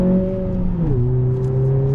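A 2020 Honda Civic Si engine pulls under throttle, a loud steady drone inside the cabin that dips briefly as if through a gear change, then settles into a smooth, even note.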